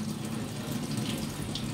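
Water is poured off soaked semolina (rava) being prepared for kurdai, a steady close splashing, trickling stream that runs without a break and with no voices.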